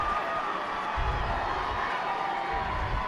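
A high school football crowd in the stands during a Crater at Wilsonville game, with a steady wash of distant murmur and cheering rising in brief swells.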